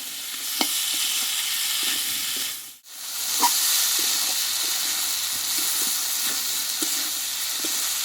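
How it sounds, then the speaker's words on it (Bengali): Potatoes and peas for Bengali ghugni sauté in a pan with a steady, fairly loud sizzle. A spatula scrapes and clinks at irregular intervals, and the sound cuts out briefly midway before resuming. "এইখানে কিন্তু আলু কিছুক্ষণ মতো আমি ভালোভাবে কষিয়ে নেব"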